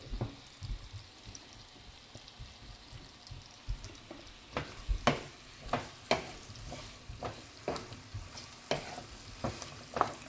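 Olive oil heating in a pot for stewed pumpkin, a faint steady sizzle broken by a run of sharp ticks and crackles that quicken and grow louder midway, close and quiet, no voices.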